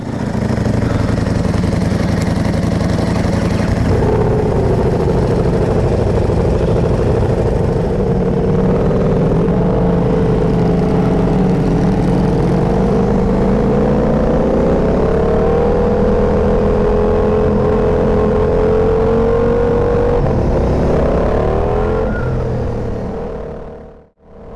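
A Ducati motorcycle engine drones steadily while riding on a California cruise, loud and close the whole way, its pitch climbing gradually with speed before cutting off at the end.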